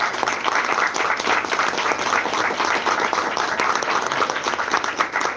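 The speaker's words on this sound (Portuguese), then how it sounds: "Então vamos aplaudir o papai pela revelação." Church congregation applauding together, a dense, steady wash of many hands clapping at close range, sustained evenly throughout without pause.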